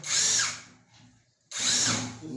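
A power drill whirs in two close, loud bursts separated by a short pause, its high whine rising as it runs.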